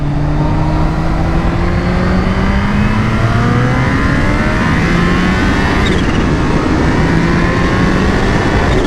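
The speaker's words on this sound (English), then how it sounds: "Bike is so fast. It's like scary fast." A Kawasaki H2 motorcycle accelerating hard at night, its loud engine whine climbing steadily through rising gears, close and continuous with no talk over it.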